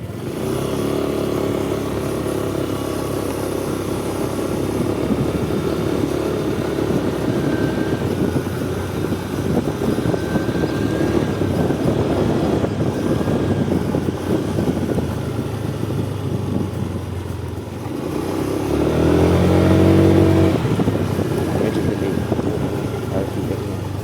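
A Honda Click scooter on the move, its engine humming steadily under continuous road and wind rush that swells louder toward the end, with no talking.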